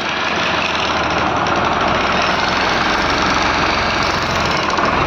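A Sonalika DLX50 engine idles steadily and loudly, a continuous rough rumble with a fast knocking pulse that holds evenly throughout with no voices.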